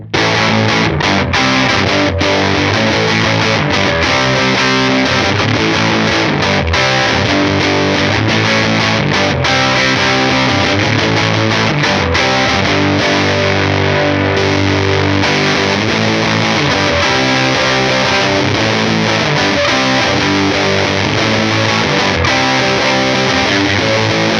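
Electric guitar through a Silktone FUZZ+ fuzz pedal with the bass turned up, a thick, saturated, heavily distorted tone played continuously and loud, with fat low end and no speech.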